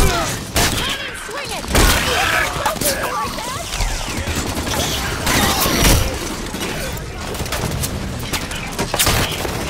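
Dense rapid gunfire from Halo 5 crackles almost nonstop, with loud bursts, sharp impacts and shattering hits layered over battle chatter from several voices.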